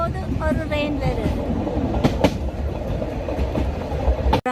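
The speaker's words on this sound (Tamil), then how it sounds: "ஒரு ட்ரெயின் போகுது, ஒரு ட்ரெயின் வருது." Trains rolling past in Mallorca, with a steady rumble and clickety-clack of wheels on rail that holds throughout, close by and fairly loud, with faint voices underneath.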